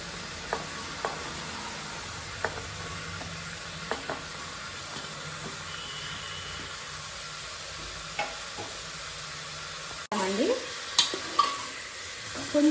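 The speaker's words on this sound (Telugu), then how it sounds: "ఇప్పుడు ఇందులో క్యాబేజీ, అలాగే క్యారెట్, ఆలు వేసుకొని ఒకసారి కలుపుదాం." Cabbage, carrot and potato fry in a pan as a spoon stirs them, a continuous sizzle broken by regular scraping taps, with louder clattering stirs near the end.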